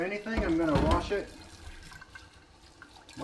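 Vintage cast iron skillet rinsed under hot running tap water, a short gush and splash of water at the sink followed by quieter dripping and trickling, with a voice talking over the first part.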